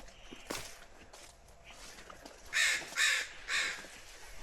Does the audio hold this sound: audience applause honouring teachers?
no